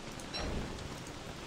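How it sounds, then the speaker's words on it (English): Heavy rain falls in Don't Starve: Reign of Giants as a constant broadband hiss of dense rainfall, steady and fairly faint, with no voices. "Hard to keep a torch going or a fire going because of all the super heavy rain."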